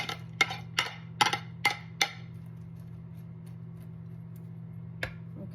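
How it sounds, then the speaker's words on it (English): An oven preheating to 425 degrees for homemade biscuits gives off a quick run of sharp, irregular ticks over a steady low hum, then falls quiet before one last tick near the end. "I've got my oven preheating at 425."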